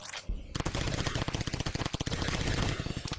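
Rapid automatic gunfire from a zombie survival video game rattles off in a dense, steady burst after a short pause, loud and close with no voices.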